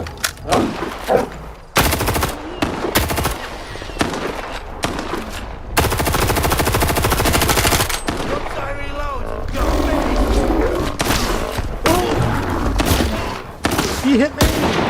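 Rapid automatic fire from a fast-shooting gun in STALKER 2, loud, close bursts that pause and restart, with brief gaps between volleys.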